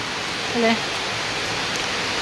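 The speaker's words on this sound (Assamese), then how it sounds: "বৰষুণ অকণমান মানে 1 ঘণ্টাৰ পৰা দি আছে আৰু পুৰা জোৰকৈ" Heavy rain falls hard and steadily as a dense, even hiss with no breaks, close and loud, with a brief faint tone briefly rising above it.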